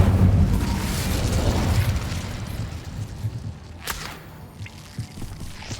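An Incendio fire spell bursts in Hogwarts Legacy gameplay, a loud whooshing blast of flame that crackles and fades into sporadic pops and small impacts, with no talk.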